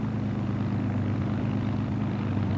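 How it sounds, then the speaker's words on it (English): Propeller engines of early military bombers of the 1st Provisional Air Brigade roar as a loud, continuous low drone, steady throughout with no breaks and no voices. "Engines were started"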